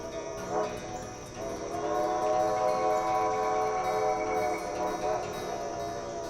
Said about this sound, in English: You hear the lonesome whistle of the train once again as it approaches the station.